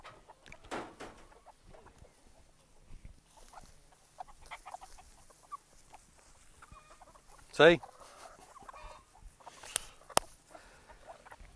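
Hens in a pastured laying flock on a farm cluck and squawk sporadically, one loud nearby squawk standing out amid quiet scratching and pattering, with a brief spoken word.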